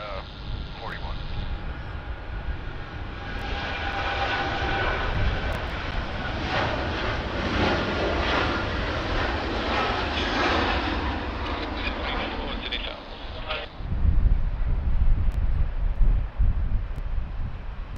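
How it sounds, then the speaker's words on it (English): A Delta jet airliner landing on runway 16 left at Sydney Airport, its engine roar swelling and holding loud for several seconds, then dropping away into a heavier low rumble as it touches down and rolls out. "looks like Delta's coming in on 16 left"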